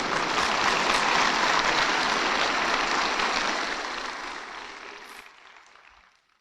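An audience at a spoken talk applauds in a loud, dense burst of clapping that holds steady, then tapers away and fades to near silence by the end.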